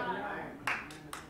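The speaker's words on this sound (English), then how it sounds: "I got one hand clap" In a Sunday morning church service, a single person claps two or three sharp times at close range just after a voice speaks.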